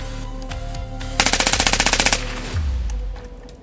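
A Dillon gun firing in rapid succession, a single loud, evenly spaced burst of around twenty sharp shots lasting about a second, close and clear over a steady mechanical drone.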